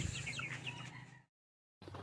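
Crossbreed chicks cheeping, a cluster of high chirps close by and fairly quiet, cut by a brief silence before the chirping resumes.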